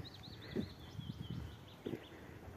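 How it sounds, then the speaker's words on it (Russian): Small birds chirp and trill in a spring park beside the Teza river in Shuya, light repeated calls over quiet outdoor ambience with a few soft nearby rustles and thumps. "Ой, чудесно, птички поют."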